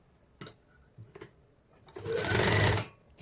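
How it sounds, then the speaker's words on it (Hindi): A sewing machine stitching the buckram corner of a kurti: a few soft handling clicks, then a short close whirring burst of stitching lasting under a second. "सेम वही बुकरम के बिल्कुल कॉर्नर पे सिलाई लगाएंगे।"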